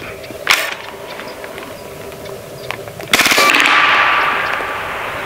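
A Hatsan Blitz .30 air rifle fitted with an AIR-15 kit fires on full auto in a short burst of rapid, loud shots after a single earlier crack, followed by a lingering hiss that slowly fades.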